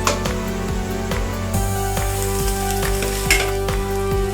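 Egg and onions frying in a vessel as they are stirred, a steady sizzle broken by regular scraping strokes of the spoon, close and loud, with no talking.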